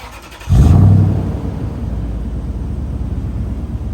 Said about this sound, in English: when you fire it up in the morning, even during a cold start, when it's kind of hitting that high idle